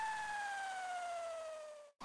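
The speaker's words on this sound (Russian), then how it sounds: "Если мотор то тормозить, то разгонять, звук будет менять высоту, совсем как у настоящей сирены" A motor-driven siren wails close and loud as one steady tone whose pitch slides slowly downward as the motor changes speed, then cuts off abruptly near the end with a short burst of noise.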